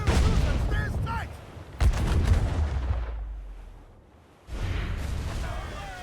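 Ship cannons in Assassin's Creed Black Flag fire in heavy booming volleys, each a loud deep blast rolling into a long rumble that fades away before the next salvo, with shouting voices mixed in.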